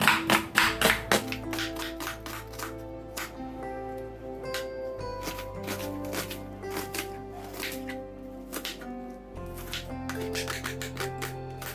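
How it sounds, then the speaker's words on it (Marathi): A knife chops onion for spicy shevya: a quick run of crisp taps on the board, then slower, scattered cuts, with steady background music throughout. "कांदा देखील कट करून घेऊया"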